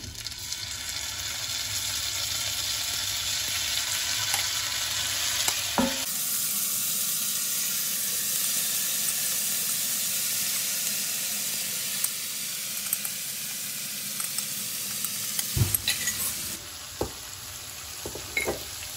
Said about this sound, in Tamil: நல்லா ஃப்ரை ஆகணும். ஃப்ராங்கி ரெடி ஆகிட்டு இருக்கு. அது பன்னீர் க்யூப்ஸு.